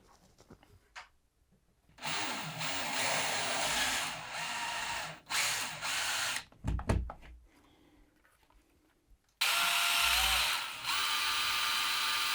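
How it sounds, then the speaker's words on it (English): A power drill drilling holes for skylight blind rails whirs in several loud bursts, stopping and starting with short pauses and a few knocks between runs. "mark the hole positions ready for drilling"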